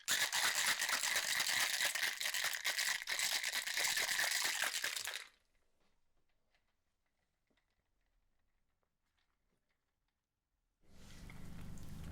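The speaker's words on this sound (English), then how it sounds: "Let's give this a nice shake," A Scotch cocktail shaken with ice in a cocktail shaker gives a loud, dense rattle for about five seconds, then near silence, then a short burst of shaking resumes at the end.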